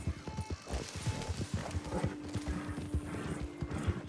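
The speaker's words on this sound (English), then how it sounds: "I have no idea why my horse is behaving this way." Horse hooves clip-clopping in a steady rhythm with a neigh, from the Red Dead Redemption 2 video game, close and continuous over game music.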